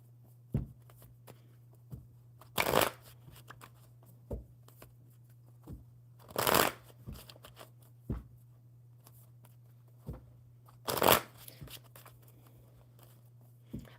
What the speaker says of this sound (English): I'm going to shuffle these cards for Tammy.